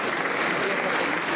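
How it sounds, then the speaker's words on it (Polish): Warm applause from an audience at a high school prom gathering, a brief, dense burst of many hands clapping, steady and moderately loud throughout. "Gorące brawa."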